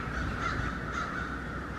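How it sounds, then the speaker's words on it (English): Crows caw repeatedly in the distance, harsh calls over a steady outdoor background hum, with no talking. "And the birds are chirping."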